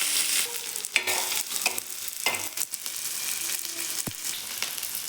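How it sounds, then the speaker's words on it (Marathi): Leftover cooked rice breakfast sautéing in a pan, a steady broadband frying hiss broken by several sharp scrapes and clatters of a spatula stirring against the metal, close and fairly loud, with no voices. "फक्त 1-2 मिनटं व्यवस्थित परतून घ्यायचं आहे आपल्याला."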